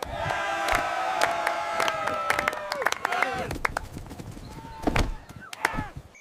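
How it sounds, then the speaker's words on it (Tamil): A crowd claps and cheers in a busy, animated mix with scattered calls and sharp hits, marking a celebration in a Tamil children's story about a little elephant. "அனைவரும் கைத்தட்டினர்."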